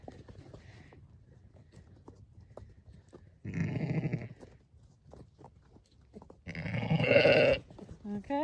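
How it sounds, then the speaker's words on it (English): Ewes and young ewe lambs bleating on a farm, two loud nearby calls separated by quiet stretches of low background noise and shuffling. "They are 3 ewe lambs, and Nibbles had ewes as well"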